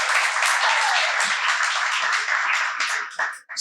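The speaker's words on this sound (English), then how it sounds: "everyone give yourselves a round of applause for being here" An audience at a live listener gathering applauds for a few seconds, a dense, steady wash of clapping that tails off at the end.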